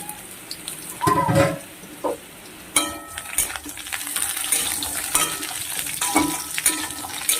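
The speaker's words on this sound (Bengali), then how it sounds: "ঝিঙগুলোকে আলুর সঙ্গে ঝিঙগুলো আবার ভালো করে একটু ভেজে নেব" Sliced ridge gourd is added to potatoes in a frying pan, bringing clattering utensil strokes and scraping followed by a steady sizzle of frying that continues under occasional stirring clinks.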